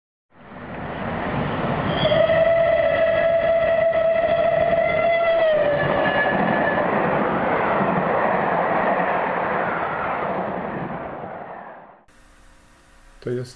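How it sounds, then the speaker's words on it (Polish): A passing locomotive blows a loud, sustained whistle whose pitch drops abruptly as it goes by. A heavy, steady rumble of the train follows for several seconds, then cuts off into quieter background. "gdy zbliża się do nas lokomotywa i gwizdże, jej ton jest wysoki. Gdy nas mija i się oddala, gwałtownie jej ton zmienia się na niski."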